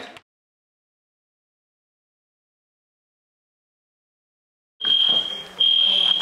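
A fire alarm sounds loudly after a long silence, a steady high electronic tone that starts abruptly near the end, dips briefly, then resumes with noisy room chatter and clatter underneath.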